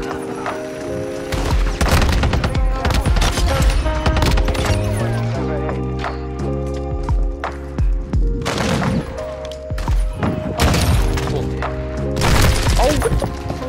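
Rapid bursts of automatic and single-shot gunfire from the video game Modern Warfare 2 crackle loudly and repeatedly over game music, with players talking over the shooting.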